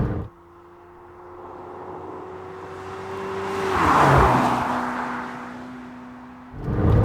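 A McLaren 720S sports car drives with a steady engine drone that swells as it accelerates through a bend, peaks, then settles back to a lower hum before rising again near the end.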